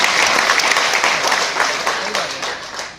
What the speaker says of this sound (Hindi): एक ताली ऐसे लोगों के लिए, ताली हो जाएगी आपके लिए।